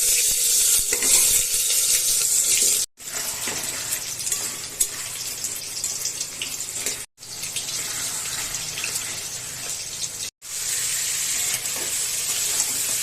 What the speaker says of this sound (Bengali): এখন এই কুকারের ভিতরে আলু ভাজা করব।